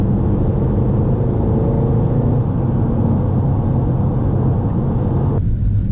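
A 2013 Mercedes C63 engine drones steadily while driving, a loud, close, continuous low rumble with road and wind roar that drops away abruptly near the end.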